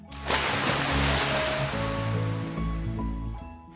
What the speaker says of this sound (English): suddenly there was a shriek and then a splash